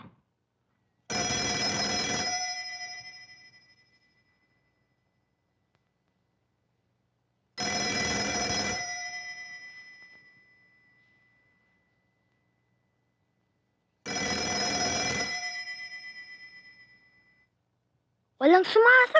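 An old telephone rings three times unanswered, each long bell burst separated by several seconds of silence, loud and close, with a brief voice at the very end.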